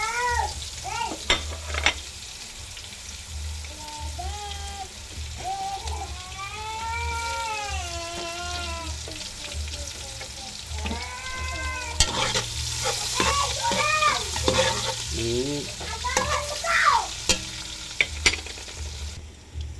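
Onions stir-fried in a pan for black beans with chicharon and alugbati, a steady close sizzle with scraping stir strokes and occasional clatters throughout.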